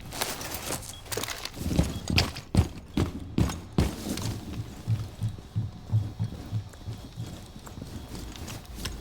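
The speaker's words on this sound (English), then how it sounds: "Heartbeat sensor activated." A heartbeat sensor switching on in a shooter video game: a run of sharp clicks and taps gives way to steady, evenly spaced low thumps like a pulse, moderately loud and with no talking.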